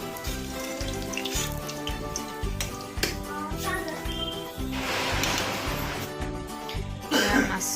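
Fish frying in hot oil in a home kitchen pan for a spiced fish curry, a steady close sizzle and crackle with bursts of spitting, louder near the end as cumin seeds drop into the leftover oil.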